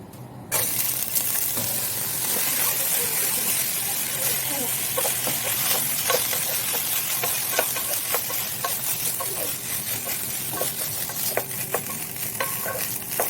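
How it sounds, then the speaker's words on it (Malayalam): Rice sizzles and crackles in hot oil, a continuous frying hiss with scraping stirring sounds and occasional sharp pops, close up, as the rice is fried for coconut rice. "അതിലേക്ക് അരി ഒന്ന് ഇട്ടിട്ട് ചെറുതായിട്ടൊന്ന് ഫ്രൈ ചെയ്തെടുക്കാം."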